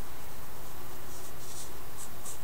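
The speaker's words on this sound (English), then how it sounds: "The nib is nice and stiff to be able to color on fabric." Spectrum Noir marker with a stiff nib coloring on fabric: soft, continuous scratchy rubbing strokes, close and quiet, with a few brighter swishes near the end and no talking.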